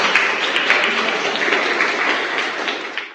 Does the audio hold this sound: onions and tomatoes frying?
no